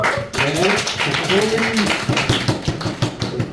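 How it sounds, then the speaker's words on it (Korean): Brief applause at a church youth service, a short burst of clapping mixed in with someone speaking loudly over a room. "박수!"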